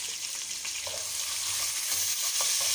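Onions shallow frying in a pan for a chicken karahi, giving a continuous bright crackling sizzle, close and loud, with faint stirring knocks underneath.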